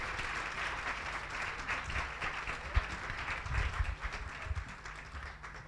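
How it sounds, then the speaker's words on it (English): Audience at a climate youth conference inauguration claps in sustained applause, a dense patter of many hands held at moderate level for several seconds, with a few louder individual claps standing out. "let's give them a round of applause as they walk back"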